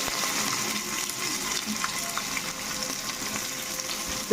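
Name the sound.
onions frying on simmer until golden brown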